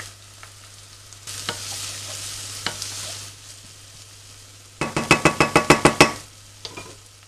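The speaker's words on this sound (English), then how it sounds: "we're going to saute these until they are soft" Vegetables and garlic sauté in a pan for nachos, with a quiet sizzle and a few stirring taps, then a quick run of about nine loud rhythmic spoon strikes against the pan.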